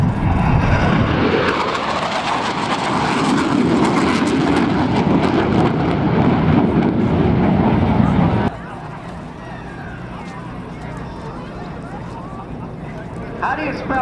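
An FA-18F Super Hornet jet roars past loudly at an airshow, a sustained broadband engine rush that suddenly drops away to a quieter distant rumble, with a faint announcer voice underneath.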